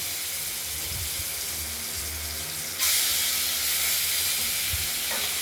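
Pieces of katla fish fry in hot oil in a wok, a continuous broadband sizzle and hiss that swells louder midway, steady and close with no talk.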